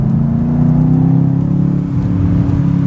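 Mercedes C63s AMG convertible with a 510 hp engine, heard as a steady, loud engine drone with layered low harmonics, the revs shifting slightly as it downshifts, with faint crackles, no talk.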